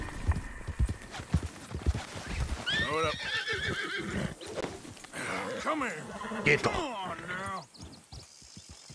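Horse hooves clip-clop and a horse neighs and whinnies repeatedly in the Red Dead Redemption 2 video game, close and fairly loud, with someone speaking over the hoofbeats throughout.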